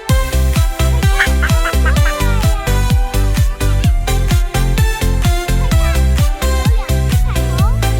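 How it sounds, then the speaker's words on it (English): Duck quacks in a children's counting nursery rhyme, repeated in a steady rhythmic pattern over loud, upbeat music. "Mother Duck said quack, quack, quack, quack"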